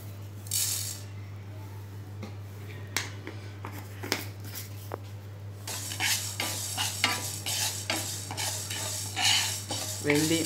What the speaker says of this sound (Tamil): வெந்தயம் கருகாமல் இதையும் பொறிச்சு அதில் கொட்டிக்கங்க